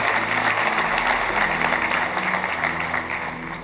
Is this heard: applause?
yes